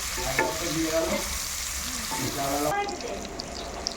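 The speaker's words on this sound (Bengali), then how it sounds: "এবার নাড়াচাড়া করে দিতে হবে" Sliced onion and green chillies are stirred with prawns frying in a pan, giving a continuous sizzle broken by clattering stirs. Faint background noise runs underneath.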